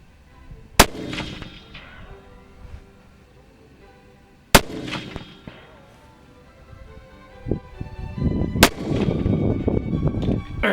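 Three loud, sharp rifle shots from a 7 PRC magnum fired off bipods, spaced a few seconds apart, each with a booming echo trailing off outdoors, and rustling handling noise between them.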